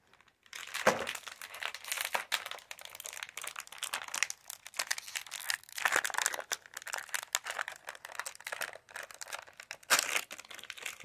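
Plastic packaging of a matcha and marshmallow chocolate pie crinkles and crackles as it is opened by hand, close and fairly quiet, in irregular bursts with louder crunches near the start and end.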